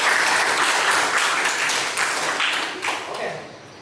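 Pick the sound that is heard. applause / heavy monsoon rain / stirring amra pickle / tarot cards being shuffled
applause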